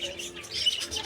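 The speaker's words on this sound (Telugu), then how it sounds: "చూస్తున్నారా ఇక్కడ డిఫరెంట్ టైప్ ఆఫ్ బర్డ్స్ కూడా ఉన్నాయి" Small caged birds at Queen Victoria Market's winter night market in Australia, a quick string of high, thin chirps and tweets, fairly faint amid soft background noise.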